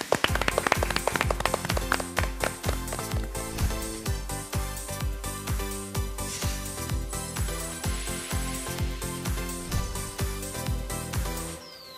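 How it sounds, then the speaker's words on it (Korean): Applause from a studio audience at a senior real-estate agent exam lecture, a dense steady patter of many hands clapping that runs unbroken and fairly loud before fading at the end. "박수로 맞아주세요."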